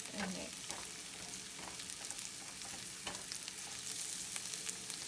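Huitlacoche corn fungus cooking in a pan, with a steady sizzle under repeated scraping and stirring strokes, close and continuous with no talk.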